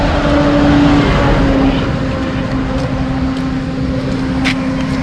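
A motorcycle engine drones steadily and loudly during a group ride in the Dhimbam hills, its tone holding mostly even as the bike moves along the road, with no speech.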